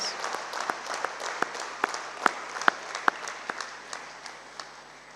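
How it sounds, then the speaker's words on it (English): Scattered, fairly faint clapping from an audience at a postgraduate awarding ceremony, honoring academic excellence award winners. Distinct individual claps ring out over a soft wash, peaking briefly in the middle before thinning out toward the end. "A big round of applause for our award winners for academic excellence"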